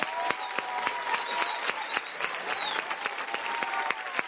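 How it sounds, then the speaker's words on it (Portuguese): A church congregation claps loudly and steadily, many hands in a continuous wash with distinct sharp claps standing out, while a voice can be heard faintly through it. "Vamos aplaudir mais forte."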